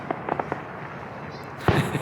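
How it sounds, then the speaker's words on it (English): Fireworks go off over a lake at night, a few soft distant pops followed by one louder, closer bang, with outdoor background hiss between them. "Found the fireworks."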